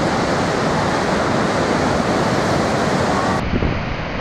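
Niagara Falls thunders nearby, a loud, unbroken roar of rushing water mixed with wind buffeting the microphone, steady throughout before easing slightly at the end.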